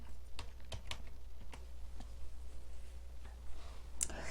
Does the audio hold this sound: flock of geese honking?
no